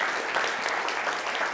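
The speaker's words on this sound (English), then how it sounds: "I just want to give a huge round of applause for this actually happening" A brief burst of steady applause from the audience at the NixCon 2024 conference, a fairly close mass of clapping without voices.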